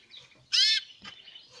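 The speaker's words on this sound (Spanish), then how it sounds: "Los pájaros están asustados, pues no se ponen bien" Birds in an aviary, mostly quiet rustling broken by one short loud chirp or squawk up close and a fainter call after it.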